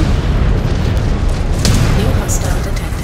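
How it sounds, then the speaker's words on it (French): Dense, rumbling explosions in the MechWarrior 5: Clans mech combat game, a continuous heavy low boom with a sharper burst midway, loud throughout. "Ah, les explosions sont pas mal, là."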